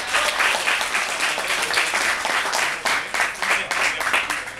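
Dense, loud audience applause at a Gigabyte overclocking event in Argentina, continuous many-handed clapping that holds steady for the whole stretch.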